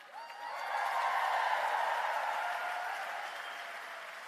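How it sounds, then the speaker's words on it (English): An audience claps for the councillors at a formal gathering, a broad, fairly distant round of applause that swells quickly, holds, then slowly fades. "let's have another round of applause for the councillors"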